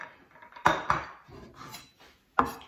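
A knife cuts drained white asparagus into short pieces on a board, giving three sharp, close chopping knocks with quieter handling sounds between them and no talking.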